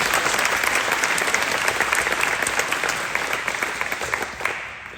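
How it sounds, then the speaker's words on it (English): An audience at a school awards assembly in a gym or hall breaks into sustained, fairly loud crowd applause with scattered sharp claps, tapering off slightly toward the end, with no talking. "Let's give him a round of applause, please."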